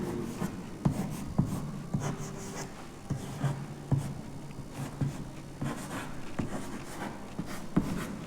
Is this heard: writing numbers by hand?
yes